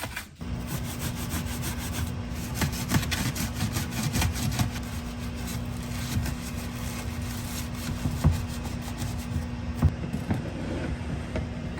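A toothbrush scrubs dirt off a surface in fast, steady back-and-forth strokes, a close rasping sound that continues throughout with a faint constant hum behind it.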